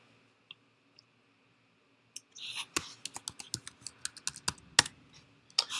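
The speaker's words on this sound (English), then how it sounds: "You're going to type in your password if you have a password or whatever it may be." A password is typed on a computer keyboard, close and crisp, a few isolated clicks first, then a quick run of uneven keystrokes over a quiet room.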